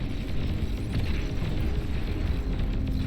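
Continuous rumbling explosions from rockets hitting in the strategy video game Beyond All Reason, a dense low roar of overlapping blasts in a large 8v8 battle, loud and sustained with no clear gaps.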